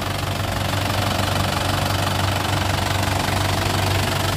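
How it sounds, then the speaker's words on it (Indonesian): A 2011 Isuzu Panther LM Smart Turbo diesel engine revving up under the open hood, steady loud knocking diesel clatter with a strong low rumble and no talking. "Untuk mesinnya kita coba gas. Nah, suaranya masih enak. Masih ciri khas Panther banget."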